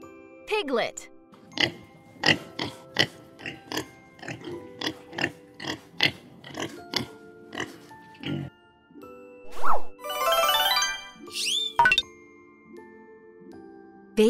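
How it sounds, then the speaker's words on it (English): Short, close squeals and grunts from a piglet come in a steady run of rapid bursts, followed by a bright tinkling jingle and a few more squeaks. "Baby pig is called a piglet."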